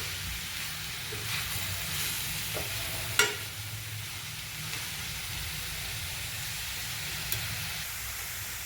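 Grated carrot sambharo gets stirred in a pan, cooked only lightly so it stays half raw. A steady, soft scraping and sizzling texture runs throughout, with one sharp utensil tap near the middle and a fainter one near the end.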